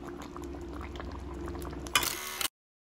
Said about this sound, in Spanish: Lleva unos 10 minutos hirviendo